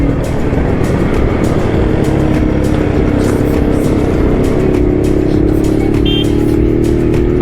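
Motorcycles, including restored vintage bikes such as a Java, ride together in a Sunday morning XP 100 bike rally, a loud, steady, close engine drone with rushing road noise and no talk.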